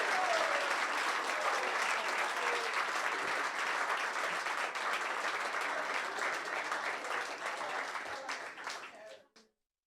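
A crowd at a charity celebration event applauds loudly and steadily, with scattered cheers mixed in, before the clapping quickly tapers off and stops at the end.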